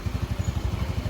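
A Honda Scoopy motorcycle engine idles smoothly with oil residue still in its smoking exhaust, giving a close, even, rapid putter of regular low pulses.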